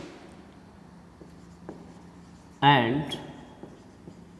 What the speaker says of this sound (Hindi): मैं इसको और नीचे लिखता हूँ